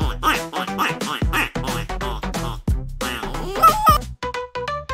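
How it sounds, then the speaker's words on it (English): A duck quacks in rapid, loud, nasal bursts close by, with a few brighter squawks near the end and no voices. "D is for duck."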